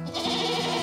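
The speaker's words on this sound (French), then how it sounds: "Ceci est un troupeau de chèvres affamés." A hungry herd of goats bleats loudly and close by, one drawn-out wavering bleat from a dairy goat on a cheese-making farm.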